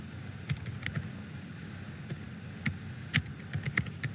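Computer keyboard typing during an Excel data-entry task, a few sparse, light key clicks spread irregularly over a quiet steady background.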